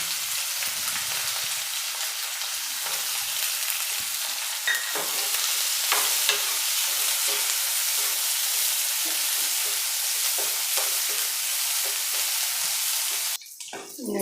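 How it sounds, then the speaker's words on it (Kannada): Chopped onion and curry leaves fry in a pan for a ridge gourd palya, a steady crackling sizzle broken by occasional stirring scrapes, close and continuous. "ಈರುಳ್ಳಿ ಫ್ರೈ ಆಗಿದೆ"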